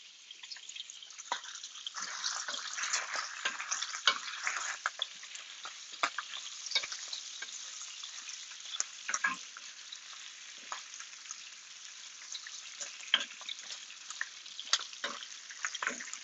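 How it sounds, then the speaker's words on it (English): Strips of bacon sizzle and spit while frying in hot oil in a pot, a steady dense crackle with scattered louder pops, close and continuous with no talking. "As you can hear, our bacon sizzling."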